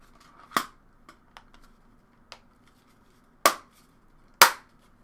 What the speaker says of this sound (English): when you click it back into place, it does make a loud clicking sound